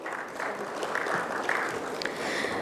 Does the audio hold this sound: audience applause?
yes